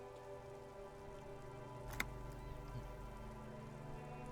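Steady rain falls on a bleak coast in a video game, a soft continuous patter with a low ambient hum and one brief tick partway through, no voices.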